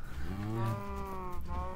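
Cows mooing on a Minecraft farm in a video game, a sustained pair of low, drawn-out moos overlapping each other, close and steady with no talk.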